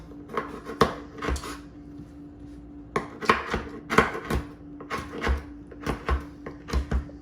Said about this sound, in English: So we cut up the white onions, now the tomatoes.